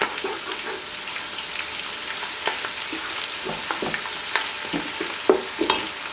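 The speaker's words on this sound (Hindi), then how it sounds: "प्याज और अदरक लहसुन को अच्छे से फ्राई करना है कि इसका कच्चापन ख़त्म हो जाए" Onion, ginger and garlic fry in a pan with a dense, continuous sizzle, while a spoon stirs through them with irregular scrapes and small sharp clicks that grow a bit sharper toward the end.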